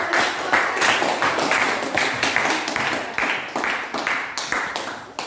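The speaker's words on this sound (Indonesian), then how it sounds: "kita berikan aplaus untuk" A classroom group of students gives a round of applause, several seconds of dense, lively clapping close by with no talk over it.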